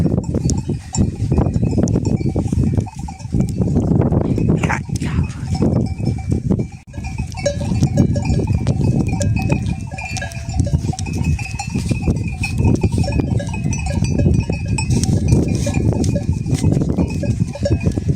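A flock of Akkaraman sheep moving together in harsh winter conditions, with clanking bells, scattered bleats and shuffling hooves, close and continuous.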